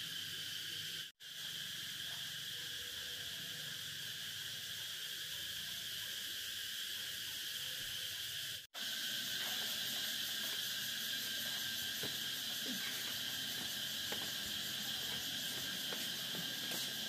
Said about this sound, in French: il y a des cigales qui font un vacarme impressionnant